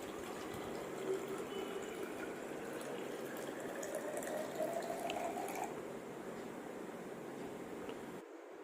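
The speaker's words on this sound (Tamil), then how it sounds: "அதில் அரை பாட்டிலுக்கு மேலே தண்ணி ஊற்றிக்கலாம்." Water pours steadily into a bottle with a gurgling, filling sound whose pitch rises as it fills, then stops near the end.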